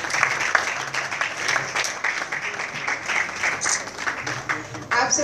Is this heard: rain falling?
no